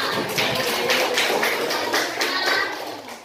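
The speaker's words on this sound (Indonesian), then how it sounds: "Tepuk tangan untuk Reva." Rhythmic group applause from a classroom of students clapping for a classmate named Reva during a lesson, steady patterned claps of fairly even loudness lasting about three seconds, with faint children's voices underneath.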